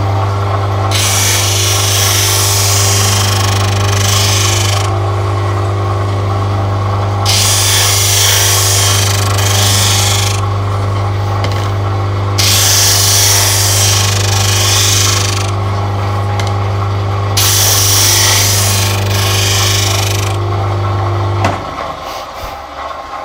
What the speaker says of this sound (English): It's just a matter of go over to the drum sander now, and or the disc sander, and I'm going to just round over the corners.